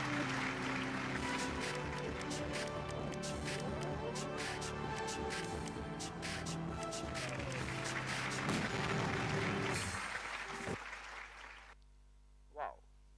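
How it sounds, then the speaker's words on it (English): Sustained audience applause at a quiz competition, dense clapping with a steady hum underneath, continuing for about ten seconds before cutting off abruptly into near silence with one short sound at the end. "Please give them a big applause."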